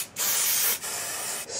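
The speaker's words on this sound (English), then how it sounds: "Next you take your hairspray and you spray the bottom." Hairspray sprayed onto the base of a spiked punk mohawk: two loud, close, steady hissing bursts separated by a brief pause, with no talking.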